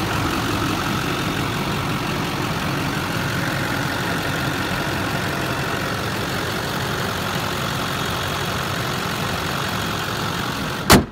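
A 2004 Chevrolet Silverado pickup idles with a steady, even engine rumble close by, unbroken until a sharp click right at the end.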